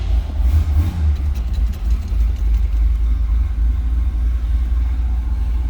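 A 1978 Chevrolet Corvette Silver Anniversary engine cranks, catches and settles into a steady, loud, close idle rumble with a brief rev near the start.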